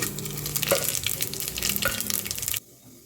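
Bay leaves, cinnamon pieces and cloves crackle and sizzle in hot oil for a mutton biryani, a busy close spatter with a couple of sharp pops, cutting off abruptly near the end.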